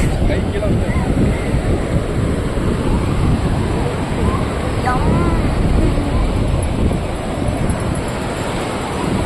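Sea waves breaking on a shore, a dense continuous roar of surf mixed with wind buffeting the microphone, steady and loud throughout.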